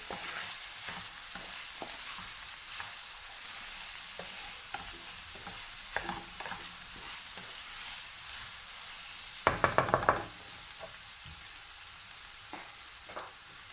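Lasagna sauce being stirred in a hot pan: a steady soft sizzle with scattered scraping clicks from the spoon, and a brief louder clatter of rapid knocks near the end.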